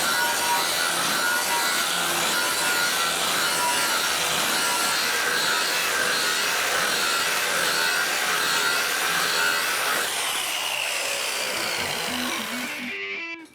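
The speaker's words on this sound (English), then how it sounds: "I'm just going to grind the back of this panel right now just before we bring it up" Power tool grinding the resin back of a bathroom wall panel to roughen it, a loud, steady abrasive whine running continuously for about ten seconds before shifting and winding down at the end.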